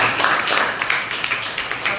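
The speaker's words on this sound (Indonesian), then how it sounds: "Tepuk tangan lagi untuk kita semua." A school class applauding in a classroom, a busy, continuous burst of many hands clapping at fairly close range, steady throughout without voices on top.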